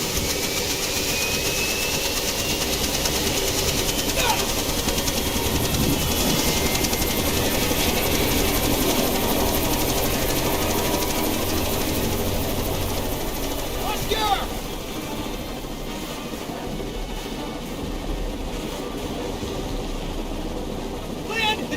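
Helicopter approaching in Jurassic Park: The Game, a continuous loud rotor and engine drone throughout, with occasional brief clatter on top.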